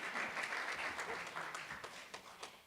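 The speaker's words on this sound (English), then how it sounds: "Yes, give her applause" A congregation at a Sunday church broadcast breaks into soft, dense applause, many hands clapping together at a distance, with a voice faintly underneath.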